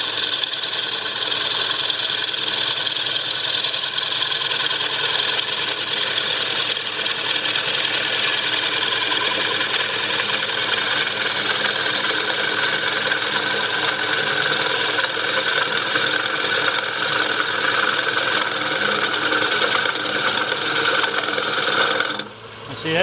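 A spindle gouge cutting a wooden bowl on a lathe gives a steady, loud, continuous scraping hiss over the motor's hum, close up, and it stops abruptly at the end.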